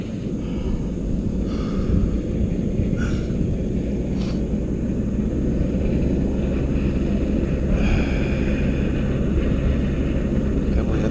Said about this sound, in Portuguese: Helicóptero decolando a noite toda.